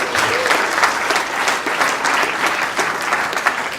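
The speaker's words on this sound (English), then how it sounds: "Let's give the boys a big clap, guys." Applause for a junior footy team of boys at a community football club gathering, a sustained, steady wash of clapping from a crowd of parents and players, fairly loud and even throughout.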